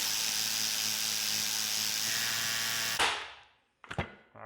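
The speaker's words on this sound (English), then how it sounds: "we can tighten up, put this back on there. And impact it." Impact wrench tightening a nut on a Bobcat 310 hydraulic cylinder during a rebuild, a steady loud buzzing hammer for about three seconds, then a sharp clank and a brief second burst close by.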